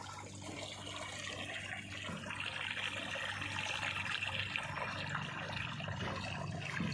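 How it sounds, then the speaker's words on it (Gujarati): Irrigation water runs steadily through a jowar field. A continuous, moderately faint rushing and trickling goes on without interruption. "પાણી ચાલુ છે અમારે જો"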